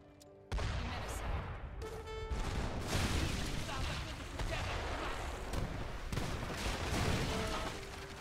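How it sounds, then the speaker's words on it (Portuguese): A fixed cannon firing at ships in Age of Empires III, heavy booming artillery blasts and continuous rumbling battle noise that start abruptly and stay dense and loud throughout. "Podemos usar o canhão fixo contra os navios agressores."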